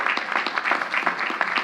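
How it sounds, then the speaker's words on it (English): A crowd applauding steadily at a college commencement ceremony, dense clapping filling the room without a break. "Let's have a round of applause for them as well."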